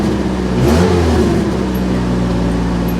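A cheap Corvette convertible's engine revs up loudly close by, then settles into a high, steady fast idle that refuses to drop.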